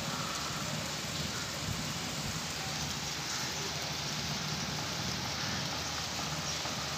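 Rain falling steadily on green, leafy plants, a dense, even hiss and patter that continues throughout with no voices.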